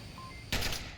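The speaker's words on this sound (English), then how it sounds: "trades gunfire with Verds back and forth" A sharp gunshot burst from the VR shooter Onward during a competitive match, one sudden loud crack halfway through after a quiet lead-in, fading quickly.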